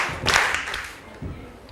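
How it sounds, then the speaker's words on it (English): A Grade 7 class claps briefly for a group, a short burst of rhythmic hand claps, a second softer clap following about a second later, in a classroom. "3 claps."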